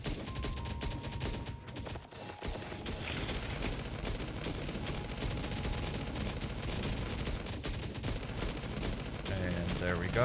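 Gunfire in the survival video game Last Day on Earth: Survival plays as a dense, continuous barrage of rapid shots with booming low rumble, loud throughout the stretch.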